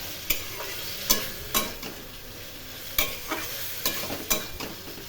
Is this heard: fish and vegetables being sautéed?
yes